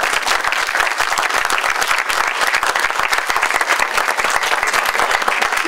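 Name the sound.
audience applause for candidates at forum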